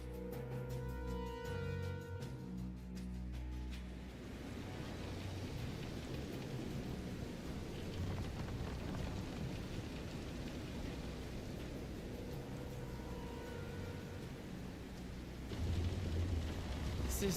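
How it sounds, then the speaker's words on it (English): A thunderstorm rolls through the Visions of Mana game world, steady heavy rain hissing throughout with deep low rumbles of thunder, while faint game music fades out early on. "This is some storm."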